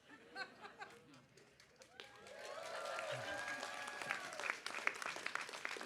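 Audience applause at a medical school commencement ceremony: after a few scattered claps, a broad wave of clapping swells and holds steady, dense and fairly loud, with some voices and cheers mixed in.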